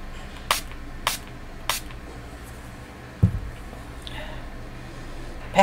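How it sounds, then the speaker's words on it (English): Three quick, sharp spritzes of solvent from a spray bottle aimed at a brush come in an even rhythm, close and crisp, followed by a single duller knock and quiet handling sounds. "Spray."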